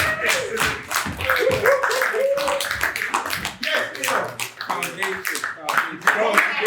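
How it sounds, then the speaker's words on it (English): Enthusiastic clapping from a small group at a graduation ceremony for 8 to 12 year olds, rapid and irregular, mixed with voices talking over it. "Leon, big round of applause."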